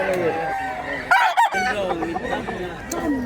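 A rooster crows loudly nearby while other chickens cluck, with a voice talking over the birds.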